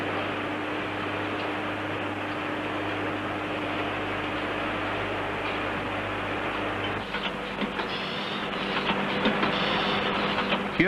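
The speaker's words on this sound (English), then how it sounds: "a machine has been developed which not only automatically cuts and shapes the heaters, but also carries out the operations of coating and glowing" An automatic factory machine cuts, shapes and coats valve heaters, giving a steady, loud mechanical drone with a low constant hum that shifts partway through into rattling, clattering activity.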